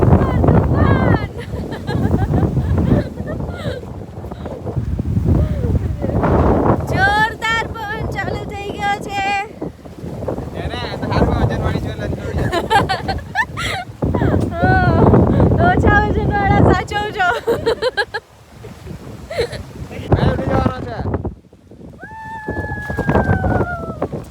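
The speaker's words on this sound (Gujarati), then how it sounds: "બહાર તો એટલો જોરદાર પવન છે" Strong wind gusting at a high hill station, loud buffeting rumble across the microphone with a person talking over it for much of the time.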